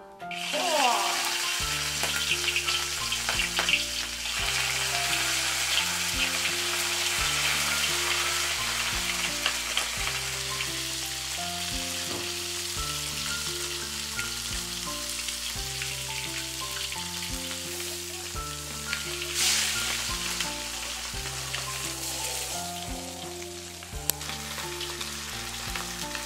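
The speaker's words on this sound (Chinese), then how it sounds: "我们就把这个鱼放进去炸" Cured fish pieces frying in hot camellia oil, with pickled duck meat frying in the same oil, a dense continuous sizzle and crackle over a steady background tone, loud and close with no talking.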